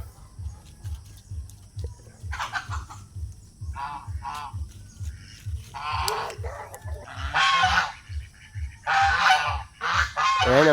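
Geese on a small backyard farm honk loudly and repeatedly, harsh nasal calls overlapping in bursts over a steady low mechanical hum, close by with no talking.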